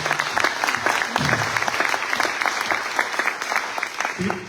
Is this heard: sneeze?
no